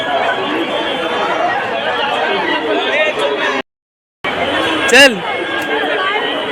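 A packed crowd jostling in the darshan line for Lalbaugcha Raja during Mumbai's Ganpati festival, a loud, constant babble of many voices, with a nearby person speaking briefly over the hubbub.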